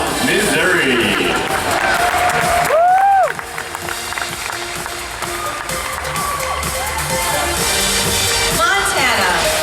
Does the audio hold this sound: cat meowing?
no